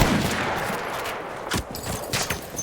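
Enemy machine gun fire in a WWI video game battle at Monte Grappa in 1918: a short spell of dense gunfire with a few sharper bursts, loud and close, with no voices.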